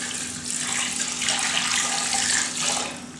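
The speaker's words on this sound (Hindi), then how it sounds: "4 लीटर पानी इसमें मैं डाल दूंगा" Water pouring steadily into a cooking pot on a high flame while making a fat-free chicken soup with desi chicken, a continuous close, even splashing rush lasting a few seconds with no talking.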